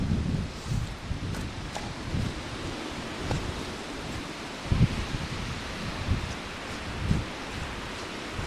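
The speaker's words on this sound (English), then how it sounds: "You can probably hear the wind now." Wind on a mountain summit roars as a steady, broad rumble with buffeting gusts striking the microphone, rising in a few stronger bursts throughout.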